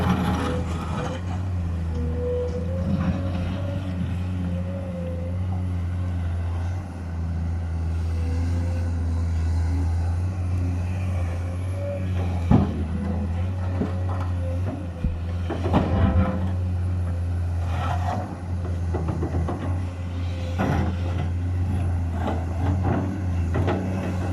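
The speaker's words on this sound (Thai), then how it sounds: "เสียงเครื่องยนต์นี่เป็นเอกลักษณ์นะครับ" A heavy diesel engine of a Komatsu PC210 excavator drones steadily and loudly nearby, a constant low rumble with occasional clanks and mechanical knocks throughout, while digging into hard sandstone.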